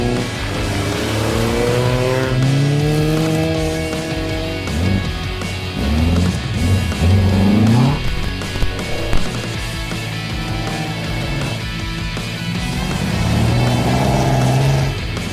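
Porsche 912 historic rally car on a snowy mountain stage of the Rallye Monte Carlo Historique, engine revving up through gears as it approaches and passes, loud then fading, with crowd-like background noise.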